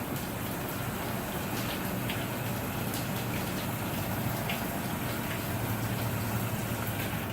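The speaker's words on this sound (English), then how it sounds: "I can hear the water valve on." A Scotsman Prodigy ice machine's water valve runs, giving a steady, even rush of flowing water with no breaks and no talk.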